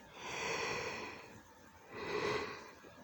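A person yawns twice, each long breathy exhalation swelling and fading over about a second, close and fairly soft with no talk.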